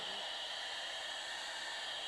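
Aboard the Space Shuttle, a vacuum cleaner gives off a steady, faint airy hum that holds even and unbroken from start to finish.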